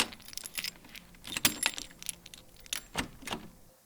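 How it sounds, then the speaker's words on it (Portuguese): A house key jingles and scrapes against a door lock, a close run of metallic clinks and rattles ending in a sharp click, quiet and with no talk. "A chave da porta foi girada na fechadura."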